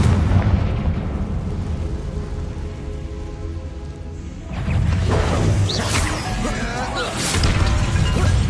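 A Confringo explosive spell going off in Hogwarts Legacy, loud blasts and crashing impacts layered over a dense, continuous rumble of combat, with a louder burst about midway through.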